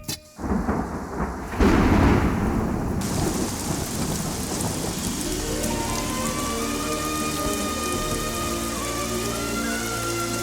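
A sharp clap of thunder breaks at the start, then heavy rain pours in a loud, dense, continuous roar close by. No one speaks.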